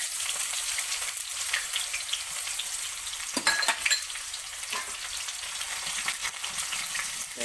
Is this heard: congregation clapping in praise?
no